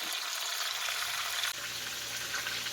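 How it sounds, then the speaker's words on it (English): Steak patties browning in a frying pan give a steady, close sizzle that runs unbroken throughout, with no talk over it. "I am just going to let these sit here and brown for about another 3 minutes"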